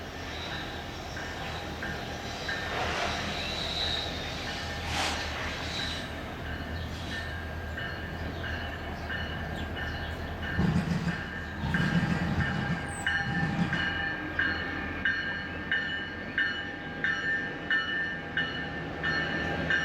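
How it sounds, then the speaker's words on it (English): Eastbound BNSF light power locomotives rumble across the railroad diamonds at Durand Union Station, with a steady engine drone and a cluster of heavy wheel thumps midway, moderately close. "BNSF Light Power pounds the diamonds on their way eastward to Flint."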